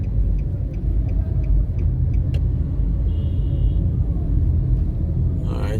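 A car drives along a city road during a morning commute, its interior filled with a steady low road rumble and engine drone, with a few faint ticks and passing noises near the end.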